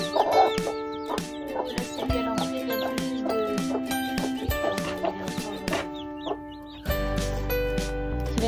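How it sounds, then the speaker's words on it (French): Chickens cluck steadily at close range, several birds overlapping in a busy coop chorus, with a brief louder flurry near the end. "Donner à manger aux poules, Louison"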